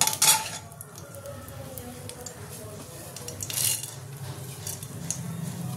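Whole mustard and fenugreek seeds drop into hot oil for a mung dal tempering, giving a soft sizzle with light metallic clinks of utensil against pan near the start and again around the middle.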